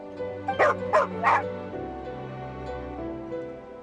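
Three sharp dog barks from a creature in the video game Genshin Impact ring out close and loud in quick succession, then fade into steady in-game background music.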